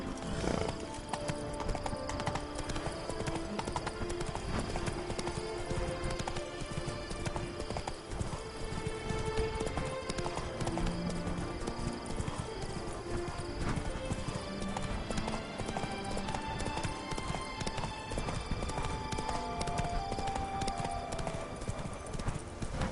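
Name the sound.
Roach the horse galloping, from The Witcher 3 video game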